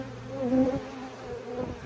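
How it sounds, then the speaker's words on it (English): Honey bees from a cutout colony buzz around a Layens hive, a steady close drone with a few individual bees whining past, no talking. "most of the bees are in the box"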